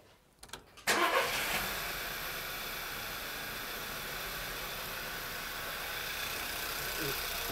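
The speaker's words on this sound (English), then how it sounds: "start the engine" A car engine starts during compression testing. Faint clicks and cranking lead into an abrupt catch, and the engine then settles into a steady, even idle that continues to the end.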